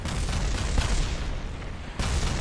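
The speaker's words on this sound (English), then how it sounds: "Spontaneous explosion" An explosion in Kerbal Space Program, a loud broadband rumbling blast that rolls on for a couple of seconds with a fresh burst near the end, close and alone.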